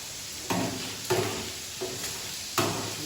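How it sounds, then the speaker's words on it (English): Squid sizzles steadily in a hot pan for paella, with four brief bursts of louder scraping and crackling as it is stirred. "And now we are frying squid."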